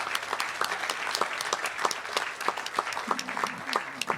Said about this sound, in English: give yourselves and your peers in this tent a round of applause